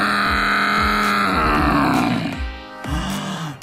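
A person's voice imitates a dinosaur roar: a loud, drawn-out growling howl sliding down in pitch, followed by a shorter second roar, close up and with no other talk.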